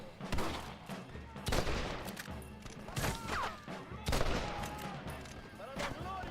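Repeated gunshots ring out in Red Dead Redemption, several sharp loud cracks spaced about a second apart over a continuous background of game ambience and music.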